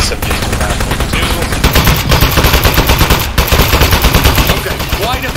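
Rapid, loud SMG gunfire in the video game Aperture Desk Job, dense continuous bursts of automatic shots filling the whole stretch, with a short pause partway through.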